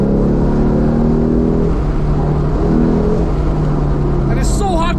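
A 2008 Lexus IS F engine drones loudly and climbs in pitch as it revs, then drops back, with a voice briefly speaking near the end.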